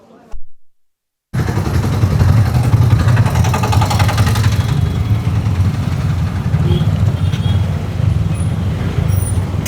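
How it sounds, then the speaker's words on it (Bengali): An auto rickshaw pulls away on a rural road near the Chunni river in Nadia, its steady engine drone rising loud and continuous after a brief quiet start, with road and wind noise mixed in. "অটোতে বসে গেছি আর অটো ছেড়ে দিয়েছে"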